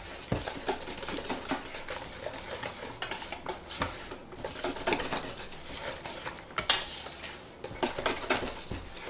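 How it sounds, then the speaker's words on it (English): Chocolate bourbon cake batter being whisked together in a bowl, giving a steady run of close, scraping stirs and light clinks of the whisk against the bowl, with no talk. "And we're going to whisk that together until it's all one consistency."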